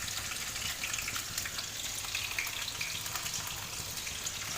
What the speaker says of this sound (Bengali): নুনটা দিয়ে আলুটা ভেজে নেবো।